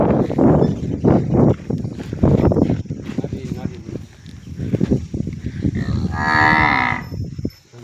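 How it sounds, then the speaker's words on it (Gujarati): Cows on a farm give several loud, drawn-out moos, the last long low call close by, with people talking nearby in between. "આપણે ગાયો રાખી છે."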